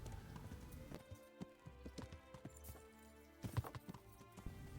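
Horse hooves clip-clop at a steady walking rhythm while riding in the medieval game Kingdom Come: Deliverance, fairly close and moderately loud, with a brief louder clatter near the end.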